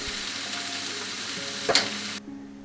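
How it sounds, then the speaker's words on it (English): Mung beans and spring onion fry in a pan while a spatula stirs them, making a close, steady sizzle broken by a sharp clatter near the end before the sound cuts off abruptly. "Put the mung beans. Stir for 1 minute."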